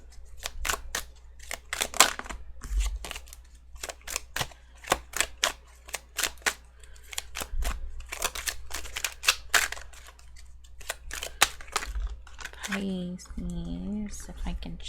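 Tarot cards being shuffled, a run of rapid crisp riffling clicks and flutters in quick bursts, with a voice speaking briefly near the end.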